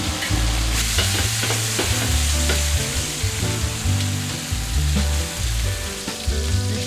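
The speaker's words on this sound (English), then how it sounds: "We're going to continue this till we get a nice sear like that on all the sides of the short ribs." Beef short ribs sear in a hot pan with a steady, loud sizzle, punctuated by rhythmic scraping and clattering as the pieces are stirred and flipped.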